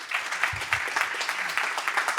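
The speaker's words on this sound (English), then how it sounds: "A big applause." Audience applause at a tech conference talk, a soft, steady clatter of many hands clapping at a distance, fairly faint with a brief low thump early on.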